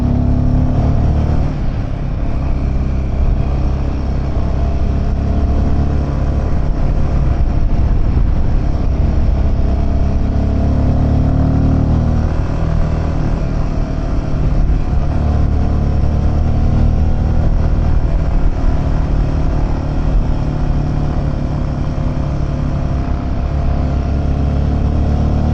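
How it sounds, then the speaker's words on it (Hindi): A Royal Enfield Himalayan motorcycle strains uphill in second gear on a bumpy, snowy road toward Umling La pass, its engine droning loud and constant under heavy wind rush for the whole stretch. "सेकंड गियर में ना हिमालयन भी नहीं खींच रही है ऊपर"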